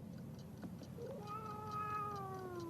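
A single drawn-out, wavering cat meow from a horror film rises from a low murmur of background noise, fairly faint and with no voices over it.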